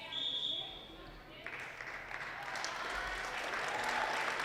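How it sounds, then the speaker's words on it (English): A crowd applauding steadily in a gym at a girls' high school basketball game, clapping building after a moment and continuing throughout at moderate volume. "Nice round of applause for Ariana Murray on her final time on this"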